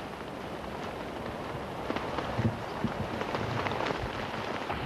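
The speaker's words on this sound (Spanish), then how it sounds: "Y al fin llovió. Lluvia graneada sobre la tierra seca," Heavy rain falling on dry volcanic lava ground in an island valley, a steady dense hiss throughout with scattered louder drop impacts near the middle.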